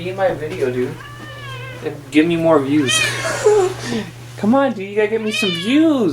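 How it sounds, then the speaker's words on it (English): A house cat at the door meows repeatedly and insistently, several drawn-out cries mixed in with someone talking over them, with a steady low hum in the background. "there was a cat at the door"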